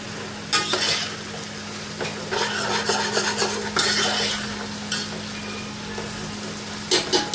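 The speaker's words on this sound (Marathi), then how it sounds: "आता आपल्याला हे कंटिन्यू मोठ्या आचेवर हे 2 मिनिटं परतून घ्यायचं आहे" Surti undhiyo vegetables stir-fried on high flame, a steady sizzle with repeated scraping and stirring strokes of a spatula against the pan, no talking.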